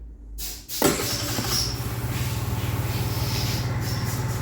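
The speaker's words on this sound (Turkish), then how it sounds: "Bir marş veriyorum." After a brief quiet moment, a Mondial Virago 50 motorcycle engine cranks on the electric starter and catches, then settles into a steady, pulsing idle close by.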